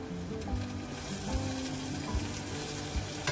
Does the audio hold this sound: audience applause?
no